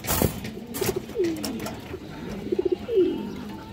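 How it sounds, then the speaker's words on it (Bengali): Racing pigeons with leg chips coo in a short close series of soft rolling calls, two distinct coo phrases with low warbling tones, no voices present. "এগুলা পাল্লার কবুতর"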